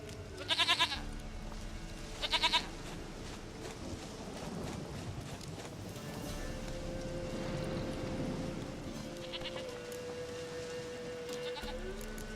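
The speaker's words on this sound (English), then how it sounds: "Goat of mine, dearest, sweetest goat." A goat bleats in The Witcher 3, two short loud bleats near the start and another fainter pair later, over steady game ambience.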